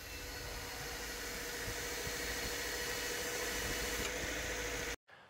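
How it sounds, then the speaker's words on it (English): A failing AC compressor on a 2013 Subaru Crosstrek drones under the idling engine, a steady mechanical hum and hiss that stays constant for several seconds before cutting off abruptly. "I'll put in a clip, if I still have it, of my 2013 Crosstrek, the noise coming from the AC compressor."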